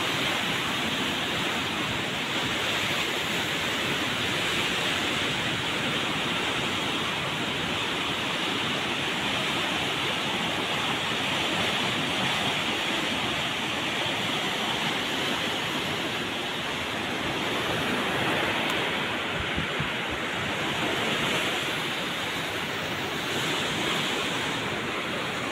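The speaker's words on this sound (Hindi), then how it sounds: "पानी का बहाव है, पानी का धार जो है काफ़ी ख़तरनाक है" Water rushes through Hamid Nagar Dam on the Punpun River in Aurangabad, Bihar, as a loud, continuous roar with no breaks throughout, heard up close with no talking.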